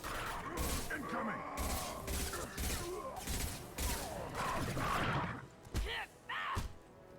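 Gunfire in Mass Effect 2 combat: rapid repeated bursts of shots with thuds and mechanical clanks, loud and dense, mixed with voices shouting over the fighting.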